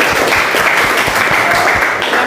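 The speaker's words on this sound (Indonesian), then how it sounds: "Tepuk tangan dulu ya." Clapping in a school classroom, loud and close, with the room's pupils joining in a brief burst of steady applause.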